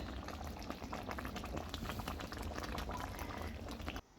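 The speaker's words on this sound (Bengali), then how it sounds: "ঝোলটা টকবক করে ফুটছে" Meat curry gravy boils hard in a pot over a wood-fired clay stove, a steady, close, dense bubbling and popping that runs unbroken for about four seconds, then drops abruptly at the end.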